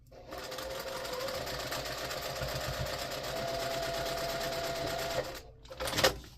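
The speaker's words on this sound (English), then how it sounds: "we're going to sew right down the side, 1/4 inch seam" A sewing machine runs a quarter-inch seam down the side of fabric pieces for a table runner, a close, steady mechanical whir lasting several seconds before stopping, followed by a brief knock.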